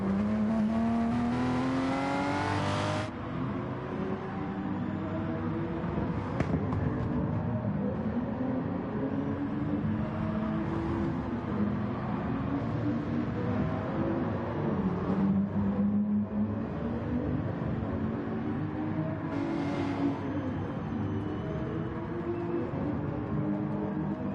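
A Porsche race car in Gran Turismo Sport during a tournament qualifying lap at Fuji, its engine droning and revving steadily through gear changes, with a brief louder burst near the start and no talk over it.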